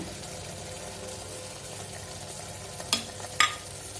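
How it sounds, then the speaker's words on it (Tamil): Tomato gravy for chapati boils in a pan, giving a steady bubbling simmer throughout, with two sharp spoon clinks against the pan near the end as it is stirred. "நல்லா பாயில் ஆகிட்டு அடி பிடிக்காமல் நீங்கள் இப்படி கிளறி விட்டுட்டே இருங்க"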